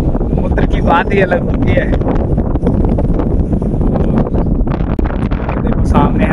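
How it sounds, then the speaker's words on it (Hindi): Strong sea wind buffets the microphone at the seashore beside a coastal temple, producing constant loud rumbling roar while someone speaks throughout. "देखो भाई कितनी तेज हवा चल रही है।"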